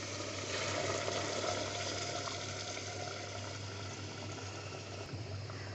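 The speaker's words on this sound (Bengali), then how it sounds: "এখন আমি পানি দিয়ে দিচ্ছি।" Hot boiled water gushes into a pot of braised beef curry, a steady, soft pouring and bubbling wash that runs evenly for several seconds with no talking.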